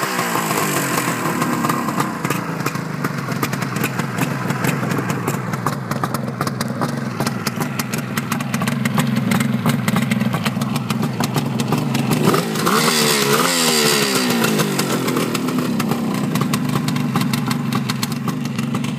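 A 1973 Suzuki GT550 three-cylinder two-stroke motorcycle engine runs loudly and steadily up close, with a buzzing, raspy note and a clear rev rise and fall partway through, no talking.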